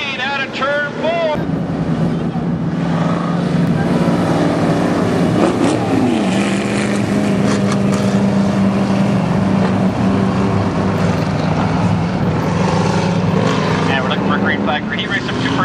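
Street stock race cars racing in a heat at Barona Speedway, loud engines roaring and revving continuously with wind buffeting, and a voice talking over the noise.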